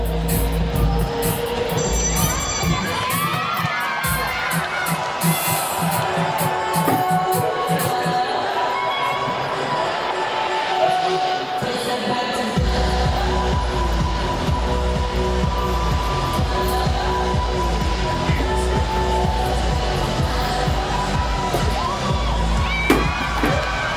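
A high school football team cheers and whoops for the JV and varsity cheer squad's halftime performance, a loud, steady crowd din with shouting, while a voice talks over it.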